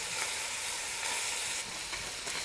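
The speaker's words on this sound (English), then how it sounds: "Saute for about 3 minutes." Three cloves of fresh garlic sauté in a pan for moussaka, giving a steady, even sizzle that continues without break and without any voices.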